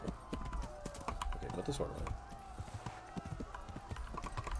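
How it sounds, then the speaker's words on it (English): Horse hooves clip-clop in a steady rhythm beneath a voice, with game sounds and clatter mixed in, from the video game Kingdom Come: Deliverance. "Mount the horse, mount the horse, mount the horse!"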